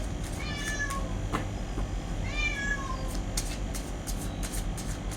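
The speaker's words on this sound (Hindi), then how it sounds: "मेरी कैट को बाहर जाना है और वो बदमाशी कर रही है, बस जिद कर रही है कि बाहर छोड़ो मुझे।" A house cat meows repeatedly, wanting to be let outside, giving several drawn-out cries spread across a few seconds over a steady background hiss, fairly near but not loud.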